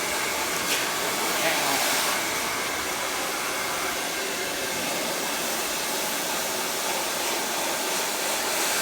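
A handheld blow dryer runs steadily, drying a person's hair with a continuous broadband whoosh at close range, holding an even level for the whole stretch.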